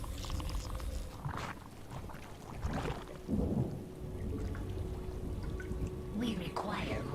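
Steady rain with rolling thunder on a StarCraft map, a continuous wash of downpour holding at an even level while a voice talks over it throughout.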